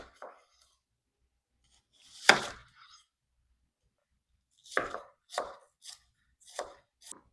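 Knife chopping onions for a meatloaf, a handful of sharp, separate cuts on a board after long quiet gaps, close and distinct, with a brief run of quicker chops near the end.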